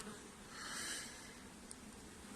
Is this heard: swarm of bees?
yes